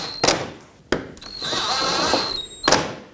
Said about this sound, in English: Let's put in the screws that hold all of this together.